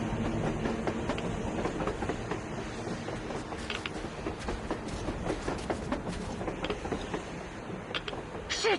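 A train rolls along surface rails in the Metro video game, a steady heavy rumble with rhythmic clickety-clack of wheels and metallic squeals and clanks, loud and close throughout without any talk.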